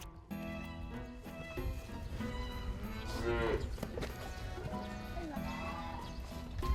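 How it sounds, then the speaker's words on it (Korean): A calf on a farm lowing repeatedly, drawn-out moos rising and falling at moderate distance, with faint hoof clatter and a voice urging it along in the background. "버티는 송아지"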